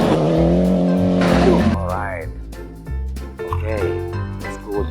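Toy rally car being played with in a racing scene, with engine-like whine and tire squeals rising and falling over about five seconds, loud and close, with voices mixed in.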